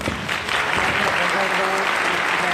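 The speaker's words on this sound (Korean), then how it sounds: "박수로 안내주십시오." Audience at a Korean political talk event applauding as guests are introduced, a loud, dense wash of clapping with crowd murmur and faint voices mixed in, steady across the whole stretch.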